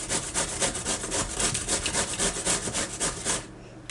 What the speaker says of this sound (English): we'll just grate up this squash.